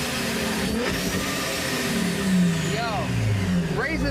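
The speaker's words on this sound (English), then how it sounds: "G35 with a supercharger on it. Hit it." A supercharged Nissan G35 engine revs at a car show, a steady mid-pitched drone rising and falling in pitch with occasional higher whining sweeps, loud and close.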